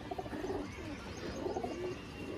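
A small female Kalanka pigeon coos in two rolling bursts of low, throaty notes, fairly close and moderately loud, with a short pause between them and no talking.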